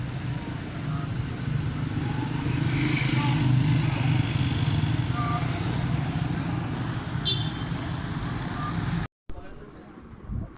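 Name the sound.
road traffic passing by a flyover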